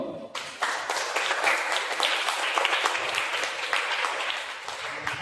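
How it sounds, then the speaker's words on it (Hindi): Audience applause in a packed hall at a religious sermon gathering, dense sustained clapping from a large crowd that continues steadily without a break and with no talk over it. "जोरदार तालियां बजाओ।"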